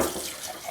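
Running tap water rinsing brewing gear, a brief steady splashing wash, moderately loud and close with no voices.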